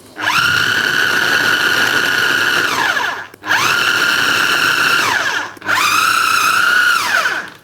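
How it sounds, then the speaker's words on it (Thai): A food processor pulsing flour and butter for pie dough runs in three loud, close motor bursts, each a steady whirring hum that winds down briefly before the next press. "เดินเครื่องในลักษณะกดหยุดเช่นเดียวกันครับ"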